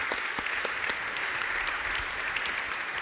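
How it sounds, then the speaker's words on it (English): An audience at a game-development conference session claps for a speaker, a dense, steady round of many hands at moderate distance, continuous for the whole stretch with no voices over it. "Let's give Tom a little round of applause here."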